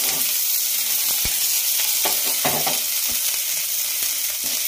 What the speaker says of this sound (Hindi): पैन में तेल गरम कर लिया है और अब जीरा डालूँगी